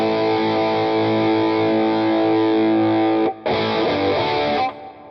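Electric guitar through a Rockman-style tone in Two Notes Genome software with chorus and reverb, playing sustained distorted chords that ring out, a brief break, then another chord fading into a reverb tail.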